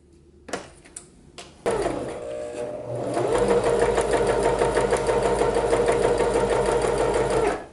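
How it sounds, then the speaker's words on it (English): A sewing machine runs a zigzag stitch close to the edge of swimwear fabric, starting after a few clicks and settling into a fast, steady mechanical whirring nearby. "I'm being sure to sew really close to the edge there"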